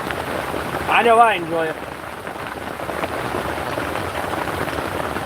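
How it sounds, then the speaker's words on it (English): Rain from a thunderstorm pours as a steady, even hiss throughout, while someone speaks briefly near the start. "I got this beautiful thunderstorm out here"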